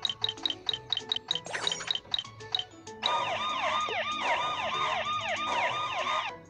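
A video game police car siren wails, rising and falling steadily in the second half, preceded by a series of quick electronic chimes and beeps; no talking.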